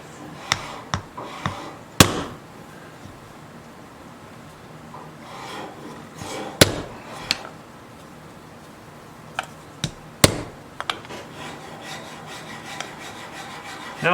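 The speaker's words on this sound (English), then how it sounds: "In this case, I'll tap it with a rubber hammer." A rubber hammer taps on the wood of an old fiddle during repair: sharp, isolated knocks spaced irregularly, a few seconds apart, close and fairly quiet against a faint background.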